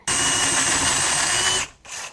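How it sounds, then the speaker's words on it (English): A power drill boring into wood runs at a steady high whine for over a second, cuts off briefly, then spins up again, loud and close. "Now in the front of it, we're going to drill a hole going about 45 degrees into the front."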